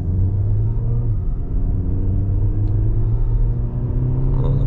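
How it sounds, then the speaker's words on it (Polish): A Renault Talisman 1.6 TCE with 150 horsepower and a stage 1 tune pulls hard under throttle, a deep, steady engine rumble heard from inside the cabin, continuous and loud with no talk. "lekko wciskasz i od razu szarpie to auto,"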